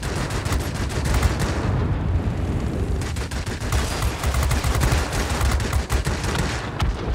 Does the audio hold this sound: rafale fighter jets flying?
no